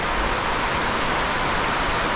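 Heavy rain pours down in a dense, continuous hiss, drumming steadily on surfaces up close with no pauses.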